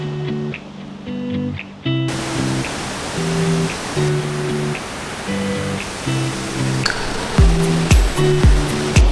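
A gorgeous river in Chiapas, Mexico rushes loud and close in a broad, steady wash, with tonal humming and a few sharp knocks riding over the flow.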